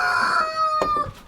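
A rooster on a small farm crows once nearby, a loud harmonic call that trails off, followed by a couple of short sharp clucks.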